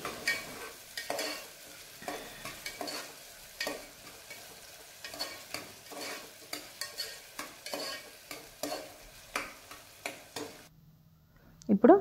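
Onions and green chillies frying in oil for tomato pulav are stirred in a pan, with rhythmic scraping strokes over a soft sizzle, close and fairly loud, ending with a brief quieter moment.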